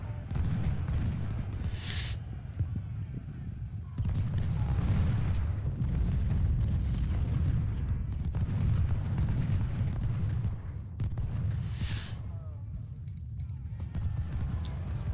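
Artillery fire in Ultimate General: Civil War at the First Battle of Bull Run: a dense, continuous low rumble of cannon and battle noise with a few sharper bursts, loud and sustained throughout.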